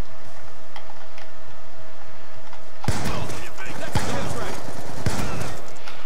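Shotgun headshot fire in a shooter game: after a quiet stretch, a dense burst of loud blasts and clattering impacts erupts, with several sharp reports repeating under excited speech.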